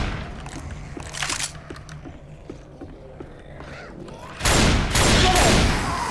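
Gunfire in the video game Left 4 Dead 2: scattered shots early on, then a loud, dense burst of rapid fire in the final seconds, with a voice speaking in between.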